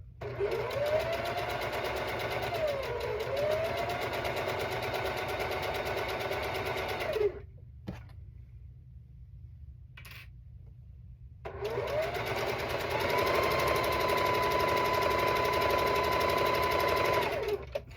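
A sewing machine chain-piecing cat quilt blocks runs in a long, even burst of rapid stitching, stops for a few seconds of near quiet, then whirs steadily again.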